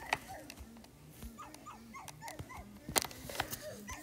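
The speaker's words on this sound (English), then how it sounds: "The dog is barking." A dog barking and whimpering in short yips, a Brookhaven Roblox music ID sound effect, with scattered bursts over a low repeating tone and a louder cluster near the end.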